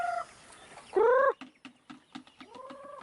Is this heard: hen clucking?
yes